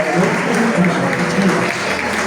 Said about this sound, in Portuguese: Recebemos o pastor e as palmas para Jesus.